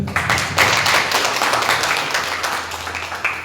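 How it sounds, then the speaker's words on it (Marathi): A church congregation at a Christmas service claps loudly for the worship team, steady broadband applause with a few sharper individual claps standing out, gradually easing toward the end. "जोरात टाळ्या वाजवूया."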